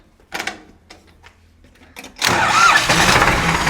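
A few short mechanical clicks and cranks, then a Farmtrac 45 tractor engine catches and roars into a loud, steady running rumble.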